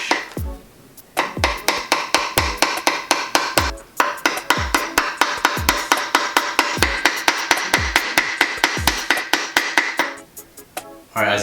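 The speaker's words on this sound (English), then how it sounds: "Just hammer it down all the way." A hammer taps a transmission seal into place on an NA Miata, with dozens of rapid, sharp metallic strikes in a steady rhythm. The blows sound close and loud, with a couple of brief pauses.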